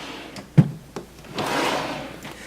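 An IKEA Alex storage drawer holding makeup opens with a solid wooden knock and a click, then slides out with a smooth, rumbling glide, close by in a quiet room with no voices.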